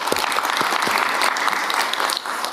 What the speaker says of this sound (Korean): 박수로 담아주시죠